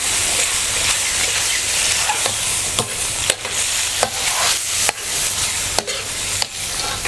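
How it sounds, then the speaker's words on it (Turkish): Cream is stirred into a mushroom sauce in a hot pan, a continuous loud sizzle with steady scraping strokes of the utensil recurring every second or so. "Yaklaşık 400 mililitre kadar kremamı da döküyorum içine ve onu hemen karıştırmaya devam ediyorum"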